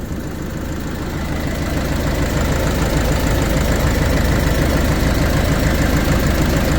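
A fuel-injected car engine idles outside, close and steady, its low, even rumble carrying a slight rhythmic knock and swelling a little after the first seconds; no one speaks.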